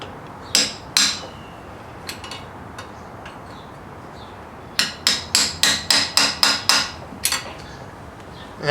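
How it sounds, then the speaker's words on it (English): Hammer striking a small chisel to punch a hole in a thin aluminum GM steering column, sharp metallic taps, two at first, then a quick series of about a dozen, close and alone. "Just come in here with a hammer and just kind of chisel basically a hole in this area"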